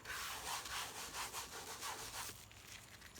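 Rag rubbing paint overspray off plastic trim, a steady back-and-forth scrubbing that swells and fades in repeated strokes, close and fairly loud, without any talk.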